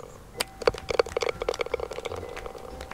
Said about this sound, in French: Ah, les petits applaudissements.